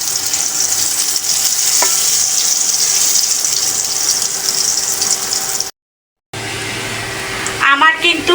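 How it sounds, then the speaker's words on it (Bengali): Thin taro slices fry on low heat in a pan, a steady close sizzle with stirring, broken by a short silent gap, followed by a brief burst of speech at the end. "একদম চুলার লো হিটে রেখে কিন্তু উল্টে উল্টে ভেজে নিতে হবে।"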